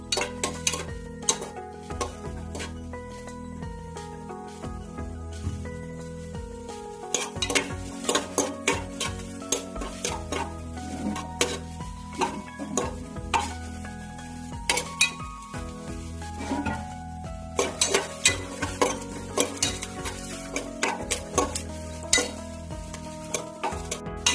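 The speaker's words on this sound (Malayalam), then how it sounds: "ഇത് നല്ലപോലെ ഒന്ന് മൂത്ത് വരണം കേട്ടോ ഒരു ചെറിയ ബ്രൗൺ ആവുന്ന വരെ മൂപ്പിച്ചെടുക്കും" Ingredients for a pressure-cooker chicken biryani fry in a pan until lightly browned, giving a steady sizzle broken by frequent scraping and clinking of a metal spoon as they are stirred, with no talking.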